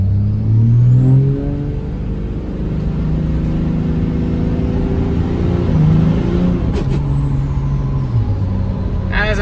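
A Cummins 5.9 diesel truck fitted with an S468 turbo pulls away from low speed and builds into boost, its loud close engine roar rising over a whine of turbo spool that climbs and holds before easing off.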